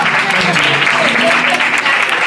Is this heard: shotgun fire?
no